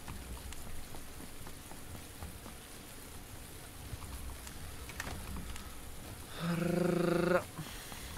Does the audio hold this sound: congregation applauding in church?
no